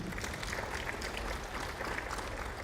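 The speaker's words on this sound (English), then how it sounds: "Round of applause until he makes it to the stage." Steady applause from an audience at a space innovation and investment forum in Kenya, a dense, even wash of clapping that holds at a moderate level for the whole stretch with no voices.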